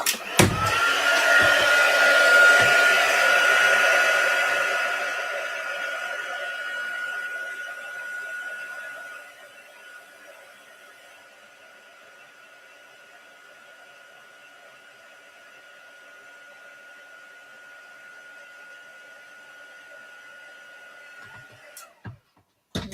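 Embossing heat gun blowing hot air over gold embossing powder on pink card stock, a steady whirring roar that is loudest at the start, eases to a lower sustained hum, then cuts off near the end.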